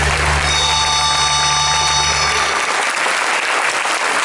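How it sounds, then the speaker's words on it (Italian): An audience at a birthday celebration breaks into steady, dense applause that fills the whole stretch, with a low background hum cutting out partway through. "e date un applauso"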